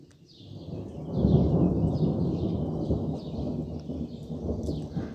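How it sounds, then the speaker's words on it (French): A long, deep rumble of thunder rolls on for several seconds, with birds chirping faintly in the background. "l'orage fait du bruit, on peut le dire"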